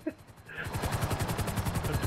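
Rapid automatic gunfire rattles in GTA 5 Online, a fast steady burst of shots with a brief pause after the first few rounds before the firing continues.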